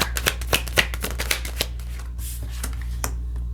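Tarot cards shuffled by hand in a quick riffle, a string of crisp papery slaps and flutters up close that thin out toward the end, with a steady low hum underneath.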